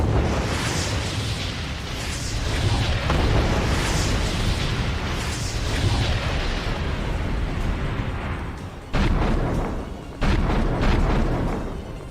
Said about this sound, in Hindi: रूसी सेना ने उत्तरी कॉन्स्टेंटिनोवाका में भारी बमबारी की है।